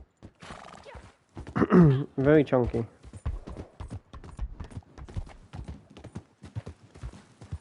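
Horse hooves clip-clop steadily in Red Dead Online while the horse whinnies loudly near the start, and a person talks briefly over the walking rhythm.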